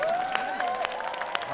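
Studio audience applauding two young boy trot singers after a televised singing contest duel, a steady wash of clapping with a faint sustained tone running underneath.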